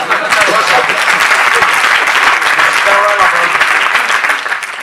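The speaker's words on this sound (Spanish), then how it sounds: "Quiero un aplauso" Loud, dense audience applause during a plenary colloquium on technology in classrooms, sustained and close throughout, with some voices and cheers mixed into the clapping.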